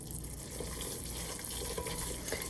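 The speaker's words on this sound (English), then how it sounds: "Just keep stirring and cooking." A roux for lima beans cooks and sizzles in a pan under steady stirring, a dense, even hiss with light scraping, close and continuous.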